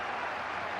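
Applause from a football crowd at a Division Two match between Gillingham and AFC Bournemouth, a brief, steady wash of distant clapping with no clear voices above it.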